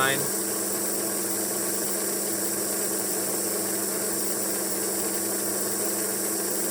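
A Kellogg's No. 5 NASCAR model car chassis motor runs smoothly, a steady continuous mechanical whir with constant hum and faint ratcheting texture, close and unbroken throughout.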